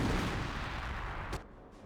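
An artillery shell slams into an MG42 position in Company of Heroes, a dense, loud rumble of explosion and debris that cuts off sharply near the end, leaving a quieter tail.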